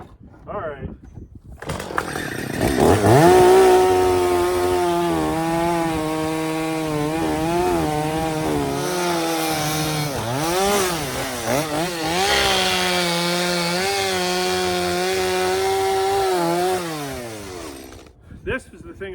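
A chainsaw mill revs up and cuts steadily through a log, its loud, whining engine note rising and dipping as the bar pushes through the wood over nearly twenty seconds, with brief idle at start and end.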